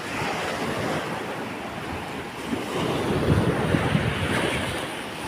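Ocean waves wash against a rocky shore, a steady loud roaring surge with wind buffeting the microphone, heard alone without voices.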